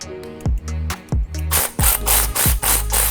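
A hand ratchet tightens a 10mm nut onto a truck ground terminal on a 2015-2020 Ford F150, giving short bursts of close mechanical clicking in an uneven rhythm that grow brighter and faster toward the end.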